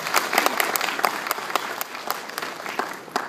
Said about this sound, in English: So I'd like to give you a round of applause too.